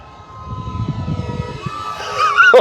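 E-flite Carbon-Z T-28 2.0m electric RC airplane slowing down on full landing flaps during its maiden flight, a steady motor whine overhead with brief wind rush, tone climbing sharply to a high squeal near the end.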